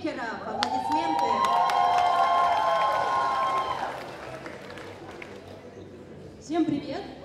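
An audience at a festival awards ceremony claps and cheers as representatives of a wigmakers' association are invited onstage, loud crowd applause with shouts and a sustained tone that fades after a few seconds before a brief burst of noise.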